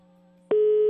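A telephone busy signal cuts in loud and steady halfway through a call, a sustained buzzing tone following a faint background hum, with no voices.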